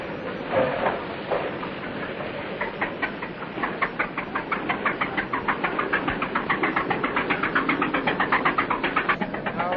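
A harbor launch engine runs steadily in Rotterdam harbor, a loud, even mechanical drone that settles into a fast, regular chugging pulse partway through, with no voices.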